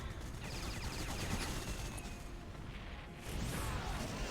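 Gunfire and crashing impacts in a large OpenRA Combined Arms team battle, a continuous clattering barrage at low level that surges louder near the end, with no talking over it.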